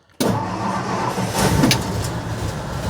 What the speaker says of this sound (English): Let's see if we can get it to fire up.